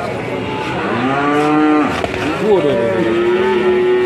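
Belgian Blue cattle mooing loudly and close at a livestock market, one long drawn-out low call that rises and wavers, with faint background noise.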